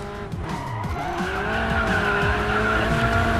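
Race car tires skidding and squealing under hard braking in the racing game Racing Master, a sustained screech over a steady engine drone, loud and close throughout.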